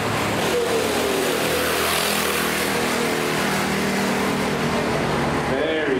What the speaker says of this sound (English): I'm going to pause for a sec because we have a motorcycle crusade.